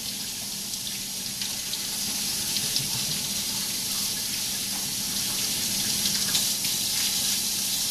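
Kale rinsed under a running kitchen tap: a steady hissing stream of water splashing into a sink, constant and close, with no one talking.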